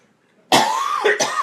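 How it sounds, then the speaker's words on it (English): A single harsh cough bursts out after a short silence, followed quickly by a second, shorter cough, close and loud. "I promise I won't cough on you"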